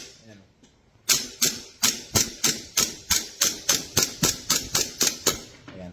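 ENC G19 Gen 5 airsoft gas pistol firing a rapid run of about fifteen sharp, evenly spaced cracks, close and loud, after a brief quiet lead-in.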